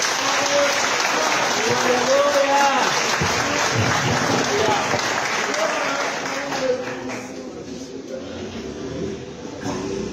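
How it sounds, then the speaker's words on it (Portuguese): A church congregation applauding through a celebration service, a dense continuous wash of clapping mixed with voices and tonal music for most of the stretch, thinning and softening toward the end. "Aplauda o Senhor."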